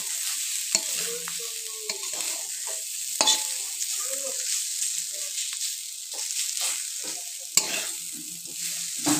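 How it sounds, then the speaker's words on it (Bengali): Chopped vegetables with green chilli being stirred in a kadai for egg chowmein, a close sizzle broken by scraping clicks and knocks of the utensil against the pan, repeated irregularly throughout. "আবার একটু ভালো করে নেড়ে চেড়ে মিশিয়ে নিচ্ছি"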